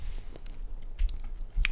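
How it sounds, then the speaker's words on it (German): Someone chews Toffifee candy right at the microphone, making soft wet smacking with a few sharper bites spaced irregularly over a quiet background. "Ich esse hier gerade Toffifee."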